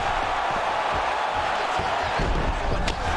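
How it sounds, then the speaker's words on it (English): Roaring crowd noise from a UFC 4 fight game match, a steady dense wash of cheering that holds loud and constant throughout, with a brief sharp accent near the end. "The crowd's going crazy."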